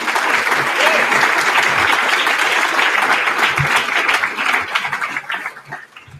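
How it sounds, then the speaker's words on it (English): A commencement audience gives a hearty round of applause for speaker Alec, loud sustained clapping close by that tapers and fades toward the end. "Let's do another round of applause for Alec."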